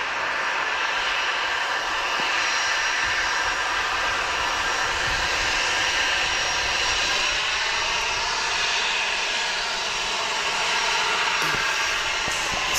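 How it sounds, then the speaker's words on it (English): An aircraft engine roars steadily at Wellington Airport, a loud continuous whine and rumble as a plane taxis along runway 25, with no voices. "we often get aircraft taxiing along runway 25 when they're operational"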